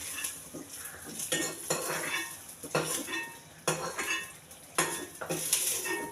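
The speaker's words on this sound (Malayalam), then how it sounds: "അപ്പോൾ അത് നമുക്കൊരു പാത്രത്തിനകത്തേക്ക് മാറ്റി വെക്കാം." Fried onion curry is scraped and spooned from a pan into a vessel, with repeated metallic clanks of a utensil against cookware over a faint sizzle, close and irregular.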